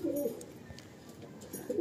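Madrasi pigeons coo in short, throaty bursts at the start and again at the end, fairly close, with quiet pauses between and no speech.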